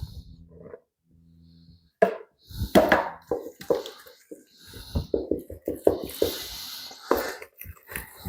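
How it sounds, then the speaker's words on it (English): Type 00 high-protein pizza flour being stirred into a pasty poolish, giving close, uneven scraping and sticky slapping in irregular bursts; a voice talks over it at the start. "Give that a good mix."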